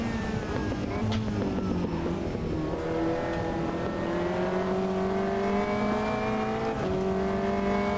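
A prototype race car engine in the video game Automobilista 2 drones steadily at high revs during a night race, its pitch rising and dipping slightly throughout, with no talking.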